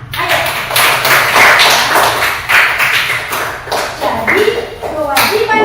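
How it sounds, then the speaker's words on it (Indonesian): A classroom of students claps together in encouragement for a classmate who answered correctly, a dense, steady patter of hand claps filling several seconds close by. "Kita kasih tepuk semangat untuk teman kita yang sudah menjawab tiga-tiganya adalah benar."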